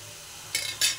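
Two quick spoon scrapes against a pan of frying potato and broccoli with spices, close and brief over a faint sizzle.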